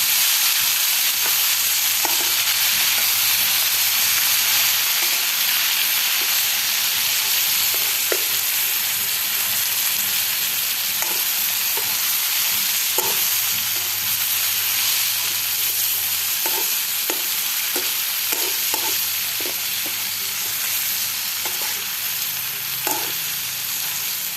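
Morning glory stir-fried with garlic and shrimp sizzles loudly and steadily in a hot pan, with a constant hiss and scattered light clinks of stirring, and no talking.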